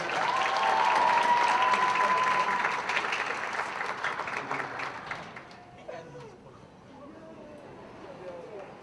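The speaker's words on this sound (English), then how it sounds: "Let's give our 5 finalists a round of applause." Audience applause for five finalists at a pageant show, loud and full at first, then thinning and fading away, with voices and a few cheers mixed in.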